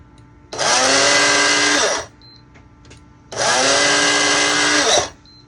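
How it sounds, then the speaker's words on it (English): Two separate bursts of a small electric spice grinder whirring loudly up close, each about one and a half seconds long, as it grinds homemade Italian dressing seasoning mix with red pepper, with a short quiet pause between them. "I really recommend a spice grinder"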